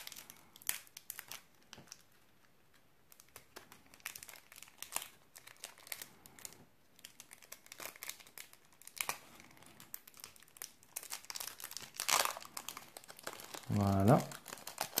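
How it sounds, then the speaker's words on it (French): A Dragon Ball trading card booster pack with a single card inside being opened: repeated close crinkling and tearing of foil wrapper in bursts, with a person talking at times. "Ces boosters-là, comme il n'y a qu'une carte à l'intérieur, c'est assez compliqué à ouvrir."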